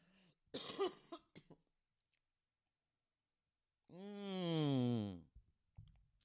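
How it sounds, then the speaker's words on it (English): A harsh, throaty cough bursts out close to the microphone, followed by a long, drawn-out vocal groan that rises and falls before fading. "Sorry about that nasty cough."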